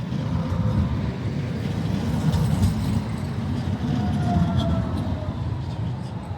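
A London tram rumbles at a tram stop with a steady low mechanical drone and faint wheel squeal, close and continuous for several seconds.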